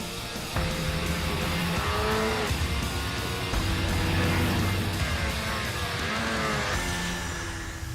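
A modern snowmobile engine riding over frozen tundra, a loud, steady high-revving roar with rising and falling pitch as it accelerates, close and continuous throughout.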